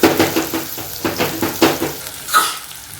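Bitter gourd sabzi stir-fried in a pan with salt, a steady sizzle broken by rhythmic scrapes and stirring strokes of a spatula against the metal, close and fairly loud.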